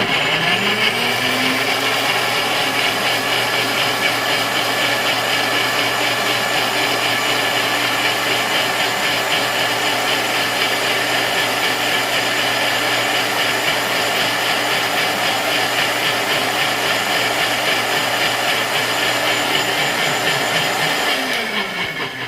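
A blender purees Roma tomato and onion in one continuous loud whir lasting over twenty seconds, with the motor revving up at the start and winding down at the end.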